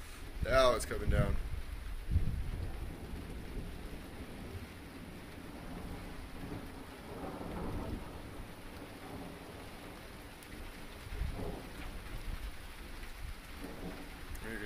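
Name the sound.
heavy rain and thunder during an Arizona storm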